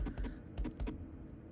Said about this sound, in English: use your back arrow and your front arrow key on the keyboard